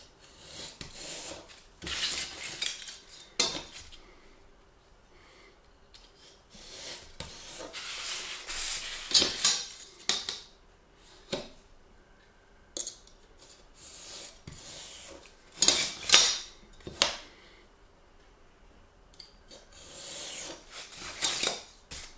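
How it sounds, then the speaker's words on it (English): A box cutter or scalpel knife cuts a part free while building a medieval tower model, giving scattered dry scraping, rasping strokes in short bursts with quiet pauses between them. Nobody speaks. "take you can take a box cutter or a scalpel knife and cut it out"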